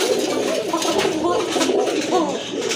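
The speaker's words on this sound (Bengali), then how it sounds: "এই যে দেখেন ডাক আছে কবুতর মাসাল্লাহ ভালো ডাক" Pigeons, a male and female pair, cooing loudly and close, with continuous overlapping rolling coos throughout and no talk.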